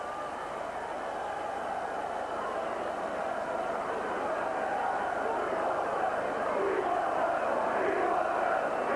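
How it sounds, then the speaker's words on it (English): Football crowd at a Sunderland versus Millwall match in 1992 shouting chants, a broad roar of massed voices swelling slightly louder toward the end, with indistinct commentary-like talk mixed in. "And we want 7, shout the crowd."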